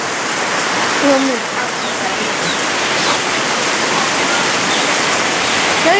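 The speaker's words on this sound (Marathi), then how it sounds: "थोडा जोरात पाऊस पडतोय." Fairly heavy rain falls steadily outdoors, a continuous loud hiss with a faint bird chirp briefly audible over it.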